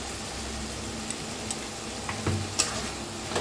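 A cluster bean dish sizzles softly in a pan while roasted peanut powder is stirred in, giving a steady frying hiss with a few faint scrapes and clicks of the spoon.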